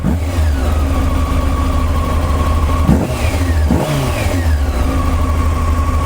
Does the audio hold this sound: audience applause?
no